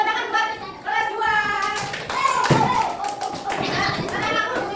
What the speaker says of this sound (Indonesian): Oke, tepuk tangan buat kelas 2.